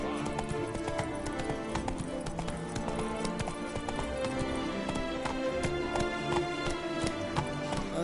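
Roach the horse trotting in The Witcher 3, steady brisk hoof clip-clops heard near and continuous, under game background sound.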